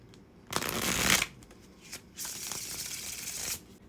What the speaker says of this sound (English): So the card that I got was the 8 of Swords in reverse.